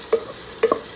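Ginger added to hot oil for salmon sinigang sa miso, producing two short sharp sizzles about half a second apart over a faint background hiss, with no voices.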